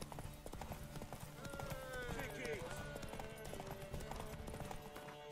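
Horse hooves clip-clop in a steady walking rhythm in The Witcher 3, moderately close, under game voices and background music.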